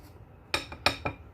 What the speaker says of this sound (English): So I'm going to whisk it together.